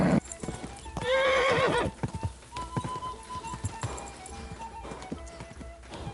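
A horse in the medieval role-playing game Kingdom Come: Deliverance II gallops with steady clip-clop hoofbeats and lets out a loud, close whinny partway through, with faint game ambience around it.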